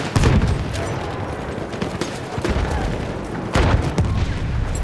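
Battlefield 1 grenade blast amid heavy battle in the Argonne Forest, a loud booming explosion at the start and another near the end, surrounded by rattling gunfire and distant shots.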